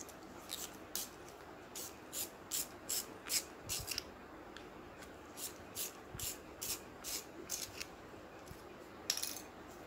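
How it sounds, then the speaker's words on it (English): A 4B graphite pencil turned in a small sharpener gives a series of quiet, rhythmic scraping bursts, each short and crisp, repeating steadily with brief pauses, close up and alone with no talking. "Let me sharp this 4B pencil."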